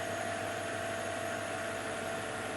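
A Mercedes C55 AMG idles steadily up close, a smooth, even engine hum with a thin, constant high whine from a slightly squealing oil-contaminated belt.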